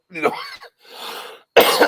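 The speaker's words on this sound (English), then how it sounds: "Oh, God, look at me. I'm coughing." A person coughing during a live mock draft stream, a few sharp throaty bursts with a short rasping rumble between them, close and loud.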